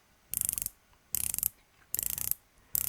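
Four quick bursts of crisp, rapid clicking from a rotating watch bezel on a Pagani Design PD 1662 GMT watch, each a short ratcheting run of sharp ticks, separated by brief pauses, close and quiet.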